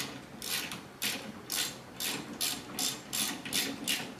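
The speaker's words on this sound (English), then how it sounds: "your ratchet will find a thread, no matter what" A ratchet wrench clicks in repeated bursts while tightening a bolt on a John Deere 115 attachment, about eight close, crisp ratcheting strokes in a steady rhythm with brief pauses between them.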